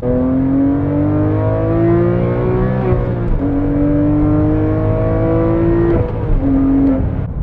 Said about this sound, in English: you want to just downshift for fun. I didn't need to, but it spikes up so easily